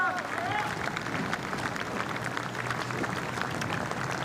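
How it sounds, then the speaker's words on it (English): Polite applause from a spectator crowd at the finish of a Henley Royal Regatta 2021 sculling race, a steady dense patter of clapping held at moderate distance throughout, with faint murmur beneath. "In front of stewards, a polite ripple of applause."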